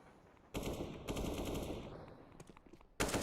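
AK rifle gunfire in a Counter-Strike esports match, with a sudden loud burst of rapid automatic shots after a quiet start, then fading scattered pops, and a second sharp burst cutting in near the end.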